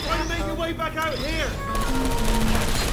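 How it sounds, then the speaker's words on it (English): Gunfire from the video game Portal 2, a rapid automatic burst that rattles steadily through the second half, loud and close, following a stretch of electronic game tones and blips. "I heard gunfire."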